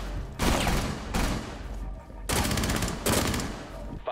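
Loud bursts of rapid gunfire in Rainbow Six Siege come in several sustained volleys, separated by short pauses, with no talking.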